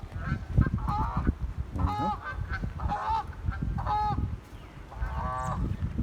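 Geese honk repeatedly nearby during a morning walk outdoors, a series of loud, nasal, uneven calls in short bursts over low rustling background noise.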